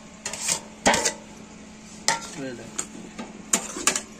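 Metal utensil scraping and stirring in a wok, with intermittent clanks and scrapes at an uneven pace, fairly close.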